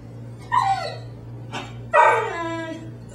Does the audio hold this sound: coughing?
no